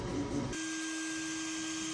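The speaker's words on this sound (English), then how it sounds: "All you hear is the fan and maybe a little bit of the motion from the print head." An Anycubic Kobra S1 3D printer runs with a steady cooling-fan hum and a sustained motor whine from print head motion, a brief busier burst at the start before settling into an even tone.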